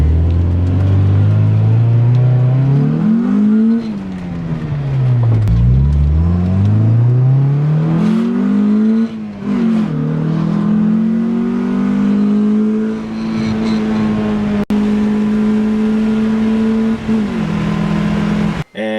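A Honda Integra with a B18 engine drives and accelerates through several gear changes, its engine rising and falling in pitch with loud, close revving and no talk.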